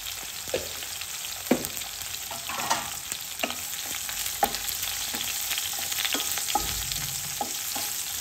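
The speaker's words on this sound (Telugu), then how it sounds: "దీంట్లో జీలకర్ర వేసుకోవాలి, జీలకర్ర ఒక టేబుల్ స్పూన్ వేసుకోండి." A tablespoon of cumin seeds fries and crackles in hot oil for a chutney, a dense steady sizzle with scattered pops and occasional stirring scrapes, close and without speech.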